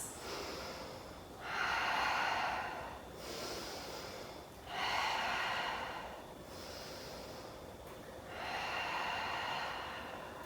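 Slow, deep breathing during a yoga pose, three long audible inhale and exhale cycles through the nose, close and fairly quiet, evenly paced with pauses between.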